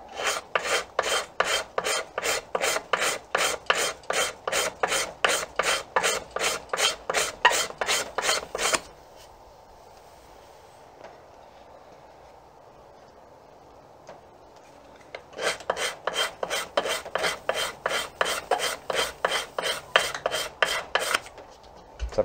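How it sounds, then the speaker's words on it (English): A gooseneck scraper works down an Osage orange bow stave in fast, even scraping strokes, a long run of rasping passes, a quiet pause, then another steady run, close and crisp with no speech. "I'm gonna have to use my gooseneck scraper"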